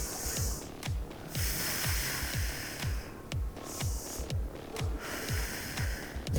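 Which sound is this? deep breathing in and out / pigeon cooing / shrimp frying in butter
deep breathing in and out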